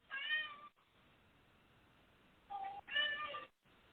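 A pet cat meows indoors, one drawn-out cry followed after a pause by a pair of quicker meows, all fairly quiet and close, with near silence between them.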